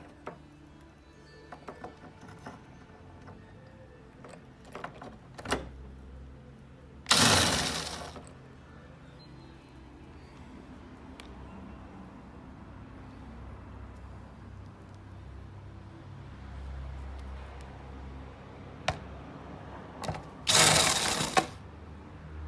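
4 mm hex head bolts are worked loose on the rear diffuser of a Ferrari F430 Spider, with two loud bursts of tool noise standing out over a quiet background of light mechanical clicks and taps.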